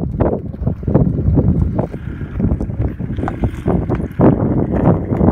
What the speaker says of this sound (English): So it's so windy today.